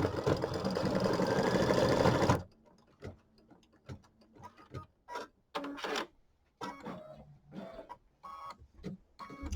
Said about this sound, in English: I'm going to sew the chenille lines